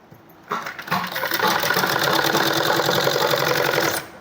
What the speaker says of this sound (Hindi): ये देखिए इस तरह से हमने सिलाई लगानी है बिल्कुल पास से।